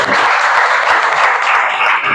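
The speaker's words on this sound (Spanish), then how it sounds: "Un aplauso" An audience at a book presentation applauds, a loud, close, continuous wash of clapping with no voices over it.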